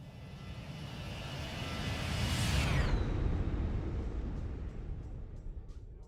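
A Boeing 737-800 jet in the X-Plane 11 flight simulator makes a flyby: a loud, broad engine roar swells, peaks with a falling whine, then recedes into a steady fading rumble.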